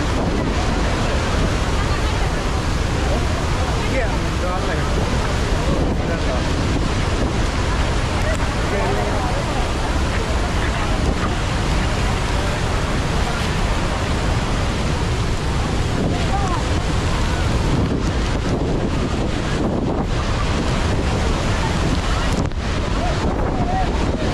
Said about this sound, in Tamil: அந்த அதிரப்பள்ளி வாட்டர் ஃபால்ஸில் தான் இருக்கோம்